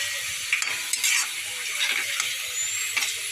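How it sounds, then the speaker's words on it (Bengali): A steady hiss of sliced onions frying in a pan until browned for chicken biryani, with a utensil scraping and stirring through them in irregular strokes, close and fairly loud. "বেরেস্তা একটু করে নেবো তো দেখো এরমভাবে না নাড়লে পুড়ে যাবে"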